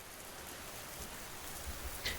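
Soft, faint rain in a quiet setting, a low continuous hiss of falling water with a few faint drip-like ticks near the end.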